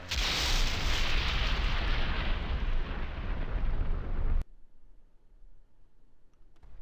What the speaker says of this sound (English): thunder sound,